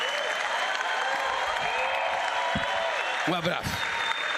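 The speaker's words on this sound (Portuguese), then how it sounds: "eu queria uma salva de palmas para esse homem" Audience applause at a Brazilian government event in Rio de Janeiro launching the Tela Brasil platform, dense clapping filling the room for several seconds with a voice speaking briefly over it near the end.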